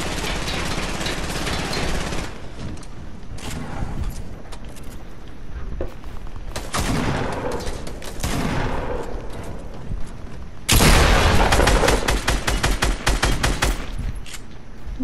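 Fortnite gunfire rattles in rapid automatic bursts and single cracks throughout, with a loud sustained volley near the end and no talking.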